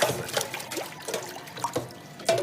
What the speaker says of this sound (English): Give them a quick rinse, upside down.